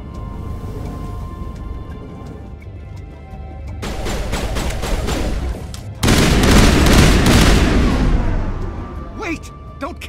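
Gunfire in the video game Mass Effect 1 breaks out in loud bursts of rapid shots, building from quieter scattered fire into a dense, sustained volley, with voices heard over the action.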